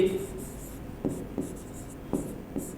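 Chalk or marker strokes on a board during a Hindi-language math lesson on HCF by Euclid's division algorithm: several short, separate scratches and taps, close and distinct against a faint background, with no talk over them.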